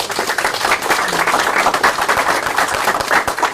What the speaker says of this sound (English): Do we join me in a round of applause, please?